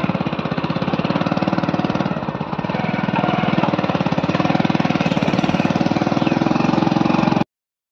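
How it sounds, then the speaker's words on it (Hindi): A motorbike engine runs steadily and close by as the bike arrives at a house, a loud, even, rapid chugging throb that holds for about seven seconds and then cuts off abruptly. "देखिए ये बाइक आ रही है हमारी"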